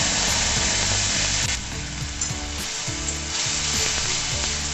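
Ground spice paste hitting a hot frying pan of oil, giving a loud continuous sizzle with bursts of crackling and some scraping from stirring.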